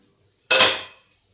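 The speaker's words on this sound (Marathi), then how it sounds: "आता आपण याच्यावर आपला हा तवा ठेवणार आहोत" A metal tava griddle is set down on a gas stove with a single sharp metallic clank that rings briefly and fades, close and alone in near silence.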